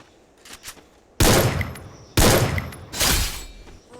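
Video game gunfire rings out in two long loud bursts of rapid shots, each lasting about a second, with a third burst following, all close and dominant over quieter background game sounds.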